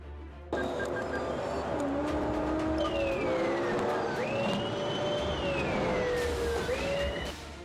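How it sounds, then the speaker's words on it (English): A police car's siren wails and shifts pitch during a chase after a white Ford Taurus, sweeping tones over a steady engine and road roar that holds loud and close throughout. "Lights and sirens were activated"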